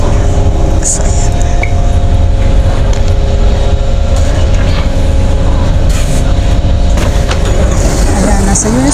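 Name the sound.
train at Singapore MRT station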